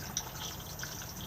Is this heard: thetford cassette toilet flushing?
yes